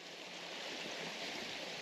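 Steady broadband rush of a creek flowing past a restored church in an Eastern Alps village, close and continuous with no voices over it.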